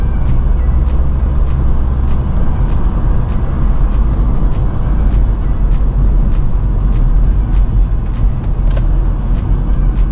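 A Kia Spectra5 compact car is heard driving: a loud, steady engine drone and road rumble run continuously throughout, with faint ticking and rattles.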